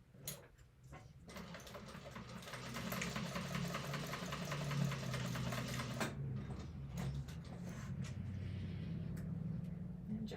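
Sewing machine stitching a second row through thick vinyl on a sling bag, whirring steadily up close after a brief start-up with a few clicks, then winding down near the end.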